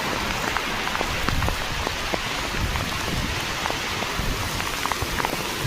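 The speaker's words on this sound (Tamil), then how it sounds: "பயங்கர காற்று மழை வந்துருச்சுங்க" Heavy rain pours steadily in strong wind at the foot of the Kolli Hills, a dense, continuous roar with scattered close drops spattering on nearby surfaces.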